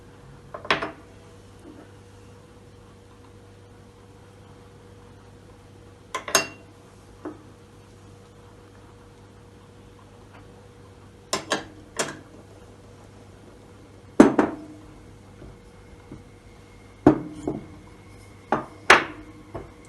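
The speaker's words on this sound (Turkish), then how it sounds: "Şimdi bütün malzemeleri sütümüzün içine atıyoruz." Ingredients, including crushed banana and spoonfuls of sugar, are tipped into milk in a bowl for an Oreo magnolia dessert, giving scattered light clinks and taps of utensils against dishware with quiet pauses between them.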